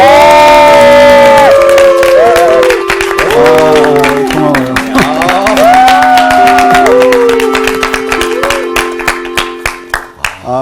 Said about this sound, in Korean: 여러분의 박수로 소개하겠습니다